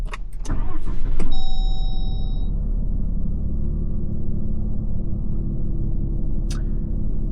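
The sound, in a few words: 2025 RAM 3500 HO Cummins diesel truck starting up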